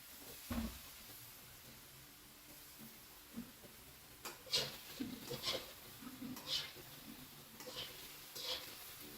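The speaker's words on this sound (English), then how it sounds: "We could stir it a little bit." Food being stirred in a cooking pan, faint scattered scrapes and taps of a utensil over a low sizzling hiss, a few louder strokes coming in irregular bursts.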